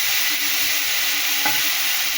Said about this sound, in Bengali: দেখো ফুলকপি ভাজা হচ্ছে